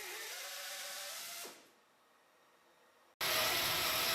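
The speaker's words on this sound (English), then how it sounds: "we move to a bench demonstration with heavy wall stainless steel tubes. This clip is used to show cutting performance on a tougher material" A KRAIS MiniCut tube cutter works on a heavy-wall stainless steel tube at a bench, giving a loud, close mechanical whir that winds down and nearly stops, then cuts back in abruptly at full loudness.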